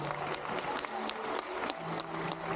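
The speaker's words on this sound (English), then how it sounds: "Let us do so by giving them a big round of applause, ladies and gentlemen." A crowd at a bird park show applauds after a birds of prey demonstration, a soft, steady patter of many hands clapping at a distance for a couple of seconds.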